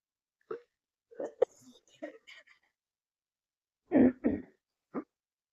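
Scattered short coughs and throat clearing from one nearby person, a few soft ones first, then two or three louder coughs after a pause.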